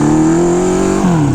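A Honda CB550 Four chopper motorcycle engine revving loud and close, a sustained throaty drone that climbs slightly and then shifts pitch near the end.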